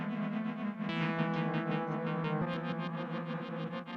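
Dreadbox Typhon mono synth with its granular effect set short, giving a dense, shimmering chorus-like wash over a sustained tone, loud and continuous with a rapid pulsing flutter throughout.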